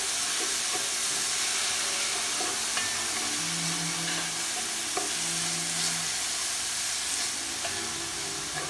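Onions, ginger and fish sauce sizzle and fry in a pan, a steady close hiss broken by stirring scrapes and a couple of brief tonal hums, with no talk.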